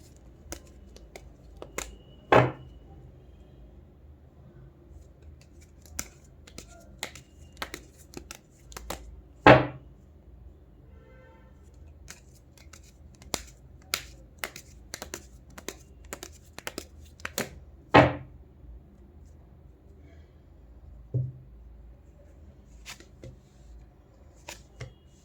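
Tarot cards are handled and shuffled in scattered soft riffles, taps and sharp snaps, with several louder clacks spread across a quiet background and no talking.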